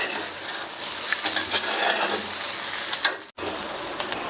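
Plantain pepper fry with coriander leaves is stirred in a pan, a steady sizzle broken by scraping strokes of a spoon, close and fairly loud, with a brief silent gap near the end.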